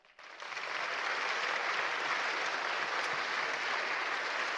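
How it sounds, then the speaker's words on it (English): An audience at a Ruby programming conference keynote breaks into applause, rising quickly to a steady, full roar of clapping that holds without voices. "Give yourself a big applause"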